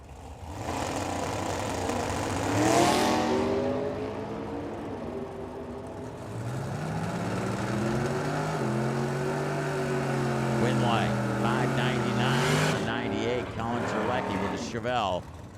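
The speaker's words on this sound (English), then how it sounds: "66 Chevelle and the dragster in the right lane" At a drag race, a purple 1966 Chevelle with a 540 cubic inch big block and a dragster rev and roar, with engine tones rising and sweeping at close range and a public-address voice talking over them.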